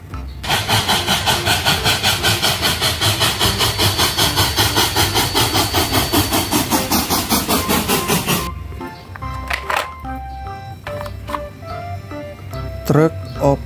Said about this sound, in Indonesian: kereta api klasik